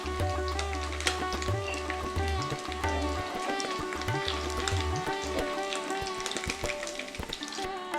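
Fish egg kofta frying in hot oil, a steady crackling sizzle heard up close with occasional pops and stirring scrapes, and a low cooker hum beneath.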